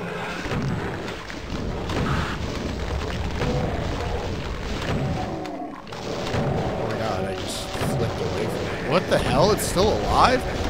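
Rocket explosions in a Doom-style shooter give repeated booming blasts and low rumbles. They are dense and fairly steady, mixed with other game noise, and a player talks over them.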